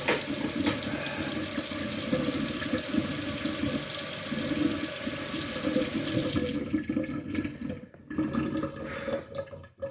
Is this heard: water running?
yes